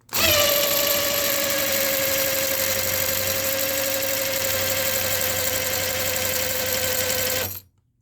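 A power drill priming the oil pump of a 598 big-block Chevy engine whirs continuously under heavy load, a loud steady grinding hum for several seconds before cutting off abruptly.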